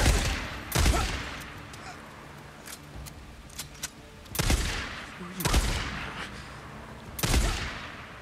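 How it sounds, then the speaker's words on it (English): Gunfire in the video game Days Gone while clearing a camp: several loud, sharp shots and short bursts, irregularly spaced, with quieter clatter between them. "Open fire! Bring him down!"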